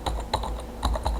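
Short burst of computer keyboard typing, a handful of quick key clicks in an uneven rhythm, close and fairly quiet with no voices.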